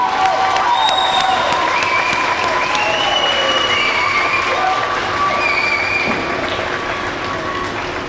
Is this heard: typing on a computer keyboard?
no